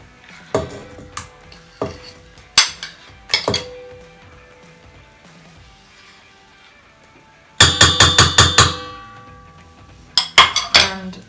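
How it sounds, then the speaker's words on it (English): Egg and mashed banana go into a bowl for banana bread, bringing a series of sharp clinks and knocks of utensils against the bowl, with a busy cluster of rapid taps near the end. "so to this I'm going to add my egg"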